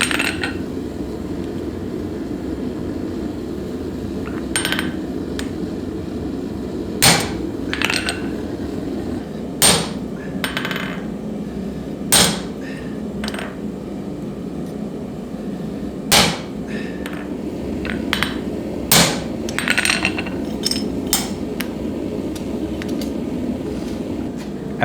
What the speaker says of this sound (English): To start forging the set downs, I wanted to try using my old guillotine tool that I rarely have a chance to try.